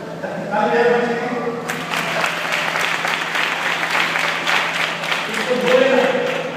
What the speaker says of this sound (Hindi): ताली बजाओ बच्चे की।